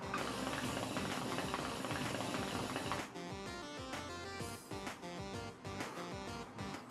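Water gurgles and bubbles inside a hookah (narguile) as smoke is drawn through, a dense continuous burbling that is loud for the first few seconds, then eases to softer, steadier bubbling, with a brief spoken exclamation.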